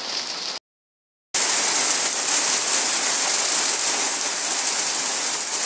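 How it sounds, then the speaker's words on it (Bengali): Heavy rain pours outdoors as a loud, dense, steady hiss, broken only by one brief silent gap near the start. "তোমরা দেখতেই পাচ্ছ বিশাল জোরে কিন্তু বৃষ্টি হচ্ছে, ভালোই জোরে বৃষ্টি হচ্ছে।"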